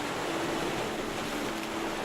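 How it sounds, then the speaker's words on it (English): Lapping sea waves played from a relaxation cassette make a faint, steady wash of soft surf with no voices. "She listened to the lapping waves of sea breeze, pushing thoughts of Sam out of her mind."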